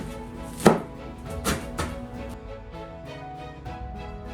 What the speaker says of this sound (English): I am going to start chopping up some of my spinach here